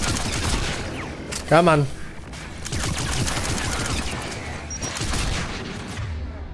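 Gunfire in Mass Effect 3 crackles in a dense, continuous barrage with a sharp burst near the start, loud and sustained, while a voice speaks briefly early on.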